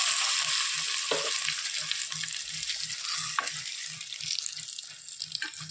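Dried chillies and curry leaves crackle and sizzle in hot oil as a tempering for Kerala-style kadumanga (mango) curry, a steady bright frying hiss with a soft rhythmic stirring thump underneath and a few sharper pops, no talking.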